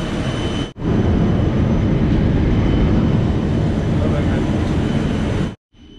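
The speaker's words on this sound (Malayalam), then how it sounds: "ജംബോ ജെറ്റാണ് വന്നിരിക്കുന്നത്" An Air India jumbo jet at an airport gate gives off a loud, steady broadband roar that fills nearly the whole stretch, cutting out briefly near the start and again just before the end.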